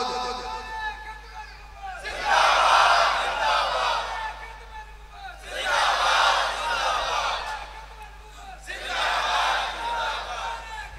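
A large crowd at a religious gathering chants a slogan loudly in unison, three long swelling roars separated by brief pauses, over a steady low hum.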